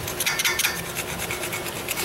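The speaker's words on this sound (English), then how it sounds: "if you see any old paint runs, now's the time to kind of scrape those off" Someone scrapes old paint runs off a hand rail, producing a quick series of close, rhythmic rasping strokes in steady succession.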